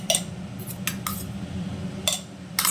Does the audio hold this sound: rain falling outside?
no